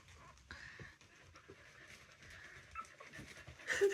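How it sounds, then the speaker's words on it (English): Young puppies pant and whimper softly close by, with quick breathy bursts and small whines that grow a little louder toward the end. "Those are puppies. They're baby dogs."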